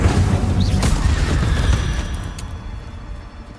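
In Hogwarts Legacy, loud magical spell effects burst and rumble in a dense, booming wash, like explosive bursts and crackling, fading gradually toward the end with no talking.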